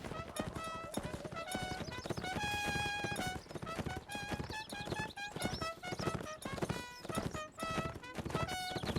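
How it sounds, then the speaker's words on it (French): Horse hooves clatter in a steady galloping rhythm with whinnies rising over it, from a mounted battle in the video game Mount & Blade: Warband, loud and continuous with other game noise mixed in. "Saut de cheval."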